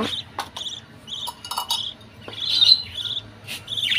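Small caged pet birds chirping and calling during a morning feeding in a home aviary setup, a string of short high tweets and trills coming in bursts, near and fairly clear over a soft background hum.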